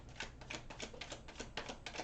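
A deck of tarot cards is shuffled by hand in quick, evenly spaced soft riffling clicks and slaps, close and quiet, with no talk.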